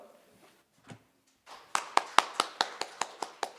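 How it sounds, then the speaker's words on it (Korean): Applause at a Korean ecosystem services symposium: after a few faint taps, a thin audience claps in a steady, fairly even rhythm, quiet and slightly distant. "박수로 부탁드리겠습니다"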